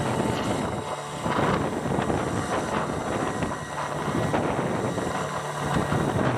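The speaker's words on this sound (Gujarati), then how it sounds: "દરિયામાં પવન ને મજા વધી રહ્યા હતા દરિયામાં મજા આવી રહી છે એકદમ ટાઢો પવન આવી રહ્યો છે" Cold wind at sea buffets a small boat off Mangrol beach, giving a loud, continuous rushing rumble that swells and eases with the gusts. No voices are heard.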